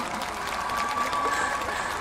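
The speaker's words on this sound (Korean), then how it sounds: "여러분 박수 한번 부탁드릴게요" A large crowd at a Korean youth talk concert applauds steadily, a dense even wash of clapping that holds at one level throughout without voices on top.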